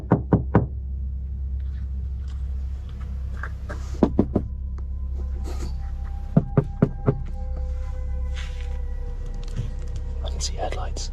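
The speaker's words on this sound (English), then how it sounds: "jolted awake by the sound of loud knocks on his camper's side" Loud knocks on the side of a camper at night: a few sharp thumps in quick groups against a steady low hum, with more scattered bangs later and faint voices in between.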